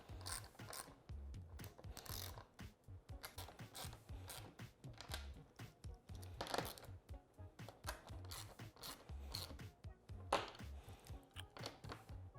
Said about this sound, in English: I'm using a 4mm Allen and 10mm wrench to do this